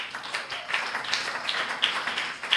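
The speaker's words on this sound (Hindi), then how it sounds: "कैसे बजेंगे तालियां?" A church congregation clapping hands together in a quick, steady rhythm, a continuous run of soft, even claps heard from a distance, with no voices over it.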